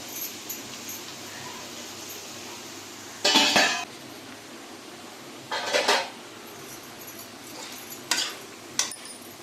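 A lid is set over a pan of seppakizhangu (taro root) poriyal roasting on low heat, with several clattering metal clanks spaced a few seconds apart over a quiet background hiss.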